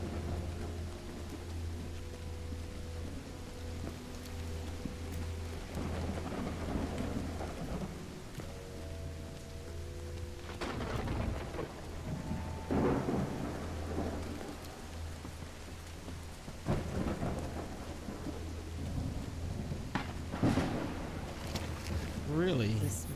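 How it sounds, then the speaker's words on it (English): Heavy rain falls steadily in a video game while thunder cracks and rolls several times over a low, continuous hum, with a person talking at intervals over the storm. "It's raining cats and dogs here."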